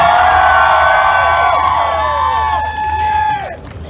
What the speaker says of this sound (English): when I ask you if you're ready to see a show, scream like you mean it